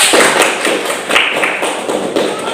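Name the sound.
clapping for everyone in the class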